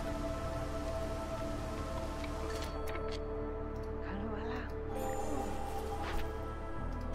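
Steady rainstorm in the video game Against the Storm, a continuous wash of falling rain that holds at an even level throughout, with faint game tones layered over it and no talking.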